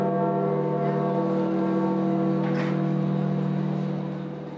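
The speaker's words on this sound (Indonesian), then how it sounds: "Lonceng Basilika Santo Petrus di Vatikan berbunyi yang menandakan wafatnya Paus Fransiskus" The bells of St. Peter's Basilica in the Vatican toll to mark the death of Pope Francis, a deep, sustained ringing hum that holds steady and slowly fades toward the end.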